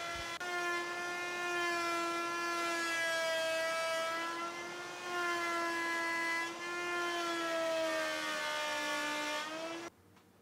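A wood router cuts a circular disc on a simple jig setup, its motor giving a loud, steady, high-pitched whine for about ten seconds before cutting off abruptly.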